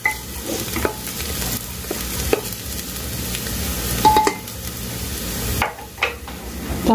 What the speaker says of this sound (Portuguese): Nós vamos jogar aqui o frango.